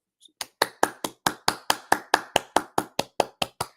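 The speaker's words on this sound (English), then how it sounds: "You get a round of applause." A single person claps steadily, about fifteen sharp, evenly spaced claps that are close and distinct against silence.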